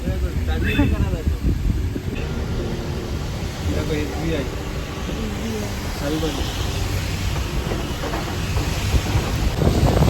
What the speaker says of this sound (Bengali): প্রচন্ড বৃষ্টিও পড়ছে।